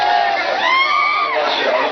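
Party workers celebrating an election win in Raigad raise loud, sustained cheering and whooping, a massed crowd roar with rising and falling voices throughout.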